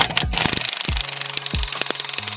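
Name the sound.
air impact gun removing wheel locks via hammered-on socket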